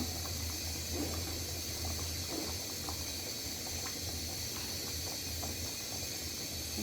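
Lentil dal simmering in a covered pot, a soft, steady hiss and faint bubbling that stays low and constant throughout, with no voices.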